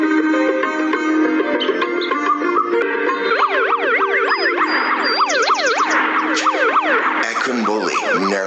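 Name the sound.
ambulance siren approaching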